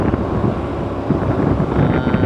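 Wind rushes steadily over the microphone beside the Khan River in Luang Prabang, a loud, continuous roar with a faint low rumble of water or a passing boat underneath.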